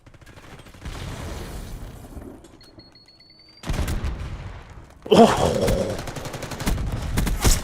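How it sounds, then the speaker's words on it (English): Gunfire from a first-person shooter video game, where a shotgun is used as a sniper weapon: loud booming shots and bursts come in separate bursts over a rumbling game background, and a player briefly exclaims. "that was a nice shotgun snipe right there"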